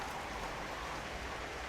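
Rain pours down outdoors at Rochas, a soft, steady hiss of drops that stays even and fairly quiet throughout.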